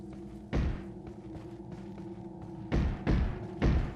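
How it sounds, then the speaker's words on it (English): Heavy thuds knock from inside a wooden wardrobe in Resident Evil 4: one blow, a pause, then three more in quick succession, loud and close. "a very haunted wardrobe that keeps making a thudding sound"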